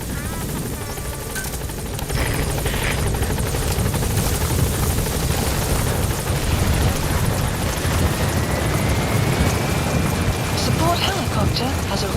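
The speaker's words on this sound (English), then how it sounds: "Support helicopter has arrived." A support helicopter arrives in the game Metal Gear Solid V: The Phantom Pain, its loud rotor thudding and engine roar sustained and close throughout, with game ambience layered over it.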